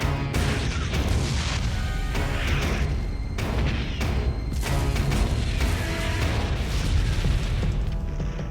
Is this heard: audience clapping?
no